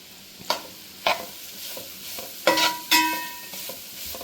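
Coconut fried in ghee while stirred, a few distinct sharp scrapes and clinks of a spoon against the pan at irregular intervals over a faint sizzle, close and clear.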